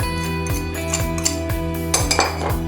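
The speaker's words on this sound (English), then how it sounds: "We will now stir our callaloo" Callaloo being stirred in a hot pot, the spoon clinking and scraping against the metal in a steady rhythm, with a few sharper clinks near the end, close and fairly loud over a constant background hum.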